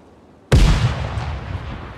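A frag grenade goes off in the tactical shooter Ground Branch, sounding as one sudden, loud, close blast after a short quiet pause, followed by a long rumbling decay.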